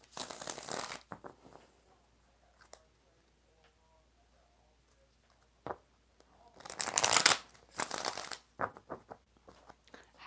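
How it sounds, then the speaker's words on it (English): Tarot cards shuffled by hand in several bursts of riffling and flicking, a short one at the start and longer ones near the end, separated by quiet pauses. "4 shuffles for sugar, honey, iced"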